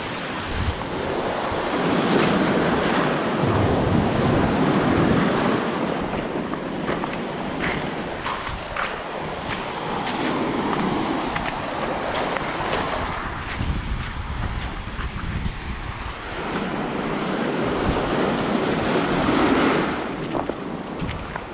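Ocean surf breaking along the rocky St Croix coast in the US Virgin Islands, steady rolling waves with a few louder surges, heavy wind buffeting the microphone throughout, no voices.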